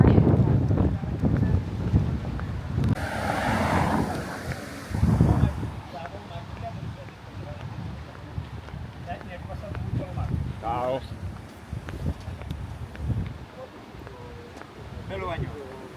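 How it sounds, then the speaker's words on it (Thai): Strong wind blows beside a roadside fruit stall, buffeting the microphone in heavy low rumbling gusts that rise and ease while people talk. "ลมแรงมาก"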